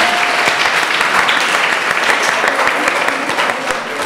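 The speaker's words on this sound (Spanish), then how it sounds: "un fuerte aplauso para tercer año A, tercer año B" Loud, close applause breaks out for the third-year A and B teams at a school debate, a dense run of many hands clapping with a few sharp individual claps standing out.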